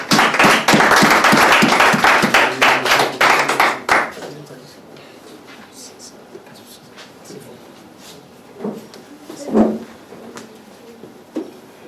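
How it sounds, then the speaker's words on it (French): A church conference audience claps together in quick, rhythmic unison for about four seconds, loud and close, then the applause stops and leaves a quieter room with scattered thumps and knocks. "On acclame le Seigneur Jésus."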